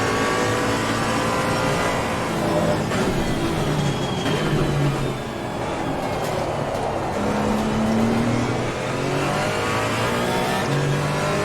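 Onboard audio of a Lexus race car in Assetto Corsa Competizione, its engine revving loud and close and sweeping up and down through gear changes and lifts for several seconds, with no voices.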